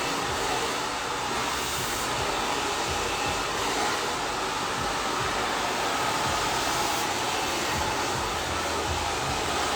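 A hair dryer blows loudly and steadily at close range while hair is heat-styled, a constant rushing whoosh with no talking.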